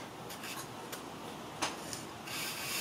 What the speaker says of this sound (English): it's a process of drill with a sharpened piece of brass